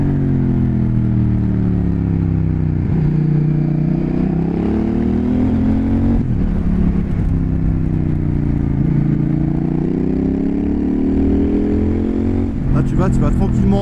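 A CF Moto 800 NK motorcycle pulls away smoothly and climbs through its gears, its engine note rising and then dropping at each shift, loud and close, with a voice over it.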